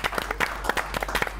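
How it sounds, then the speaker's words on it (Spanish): A brief burst of audience applause greets two carnival vedettes, Leticia Sánchez and Macarena Rosadilla, with scattered claps rising and falling over a low steady hum. "Un fuerte aplauso para recibir a Leticia Sánchez y Macarena Rosadilla"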